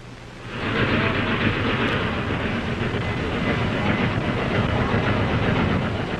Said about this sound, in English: What you're seeing now is a familiar sight, a train coming into the station. And the sound, too, is familiar.